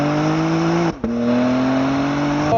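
BMW M4 Competition engine accelerating hard, a loud steady drone rising in pitch, broken by a brief gear-shift dip near the one-second mark before climbing again toward the top end.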